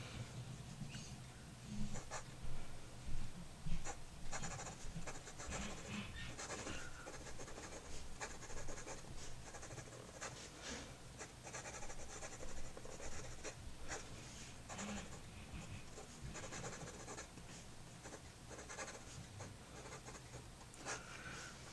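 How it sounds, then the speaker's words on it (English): A Noodler's Ahab fountain pen scribbles quickly across paper, a faint, continuous scratching with rapid rhythmic strokes that runs on steadily throughout, close and quiet. "See if the feed will keep up when I write quickly."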